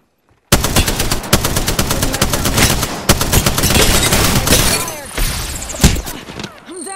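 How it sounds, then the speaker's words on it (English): Heavy video game gunfire in a squad battle, dense overlapping bursts of automatic fire with sharp cracks and shattering impacts, loud and continuous for several seconds after a sudden start. "Taking fire! Joker's shooting at me."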